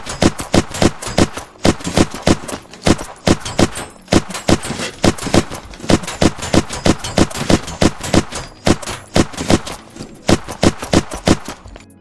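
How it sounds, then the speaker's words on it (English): Rapid gunfire from the Reflection gun in the video game Unturned, sharp shots cracking in quick bursts with brief gaps, loud and close, alone with no voices. "And here's what it's like to shoot."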